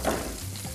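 Meat sizzles in a frying pan for a sandwich, a steady close crackle with faint stirring and no voices.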